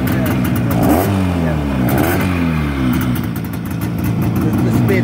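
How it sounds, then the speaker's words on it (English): A 1962 Greeves 25DC Sports Twin 250cc two-stroke motorcycle engine running close by, rising and falling through several revs with a busy, buzzing note, while people talk nearby. "This would be a 2T engine, I guess, wouldn't it?"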